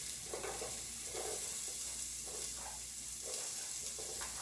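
Chopped onion hits a hot pot on a flame, giving a strong continuous sizzle with rhythmic swells every half-second or so as it is stirred, close and loud.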